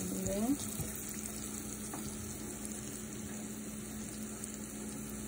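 Kelp noodles stir-fry in a pan with turmeric and holy basil, giving a steady, close sizzle and crackle that runs unbroken throughout, with a brief scrape of stirring near the start.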